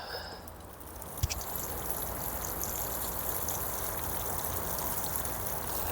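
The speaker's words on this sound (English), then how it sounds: "And now I'll give them a good water." Water pours steadily from a watering can onto two potted rhubarb plants on a no-dig allotment, a close, even splashing trickle lasting several seconds with no talking.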